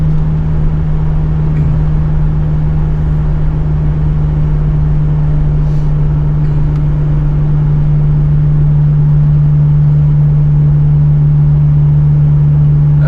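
A Suzuki Sidekick engine hums steadily while driving: a constant low drone with a firm tonal note and rumble, loud and unbroken, with no talking.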